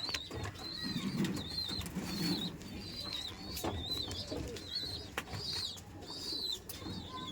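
Low pigeon cooing murmurs in the background while higher chirps and brief clicks or rustles come and go, all fairly faint.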